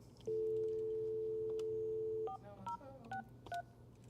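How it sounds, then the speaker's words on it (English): Dialing on a VoIP phone: a long steady dual-tone beep lasting about two seconds, followed by four short keypad tones in quick succession, clear and close with faint room noise beneath. "so let's dial him up"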